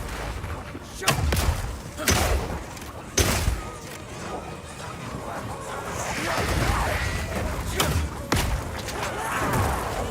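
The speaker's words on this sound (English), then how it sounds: "Firing one of these grenades coats the ground and nearby enemies in oil." Oil grenades fired by a Mercenary in Path of Exile 2, heard as several dull thumping launches spaced a second or more apart over a busy bed of combat noise and rustling impacts.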